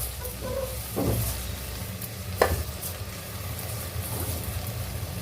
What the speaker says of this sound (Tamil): இப்போ இந்த அரிசியை மட்டும் நம்ம இப்போ வதக்குறோம்ல, அதில் போட்டு நம்ம இதையும் அரிசியும் போட்டு வதக்கிக்கலாம்